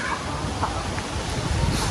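Native chickens with their chicks clucking in a backyard poultry flock, a dense, continuous chatter of soft clucks and peeps heard close by over steady background noise.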